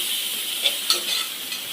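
Onions frying in a pan as ginger garlic paste is stirred in for a spicy mutton curry, a steady close sizzle with a couple of soft stirring clicks.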